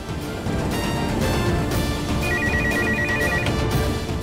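A landline telephone rings with a repeated electronic trill, steady and fairly loud over a busy background of low noise.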